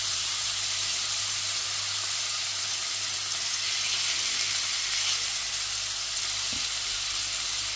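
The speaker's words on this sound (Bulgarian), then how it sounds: "да запържвам филенцата." Chicken fillets sizzling in a hot oiled pan, a steady, even frying hiss that holds close and constant throughout with faint stirring or shifting, no talking.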